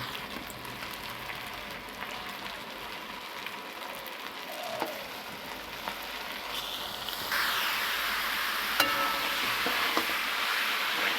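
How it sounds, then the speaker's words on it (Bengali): Chicken frying in spice masala sizzles steadily in a pan, a soft crackling hiss with small stirring clicks, growing louder and brighter partway through. "মশলার মধ্যে চিকেনটাকে দিয়ে ভালো করে ভেজে নেওয়া হচ্ছে।"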